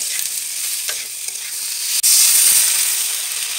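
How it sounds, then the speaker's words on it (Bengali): Fried potatoes and peas being stirred in a pan just after a little water is added, a steady close hiss and sizzle with a sharp burst of steam partway through, no talking. "ভালো করে নাড়িয়ে নিলাম।"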